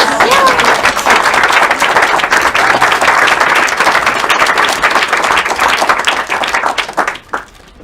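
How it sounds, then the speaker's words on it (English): Sustained applause from an audience at a youth awards ceremony, loud, dense clapping that holds steady before tapering off at the end. "One more applause."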